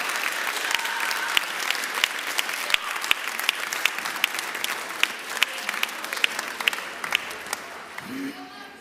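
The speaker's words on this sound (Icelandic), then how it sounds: "Eigum ekki að gefa þessum krökkum gott klapp." Church congregation at an Icelandic worship service clapping for the children, a steady, full round of applause with sharp individual claps over the crowd, fading out near the end.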